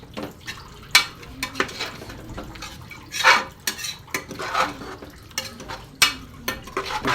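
Biryani ingredients deep frying in a pot, with a low bubbling sizzle under repeated clanks and scrapes of a metal ladle stirring against the pot sides.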